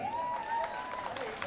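Festival audience clapping at the Chausathi Yogini Mahotsav in Hirapur, a quiet, steady patter of applause heard from a distance, with a sustained tonal hum running beneath it for the whole moment.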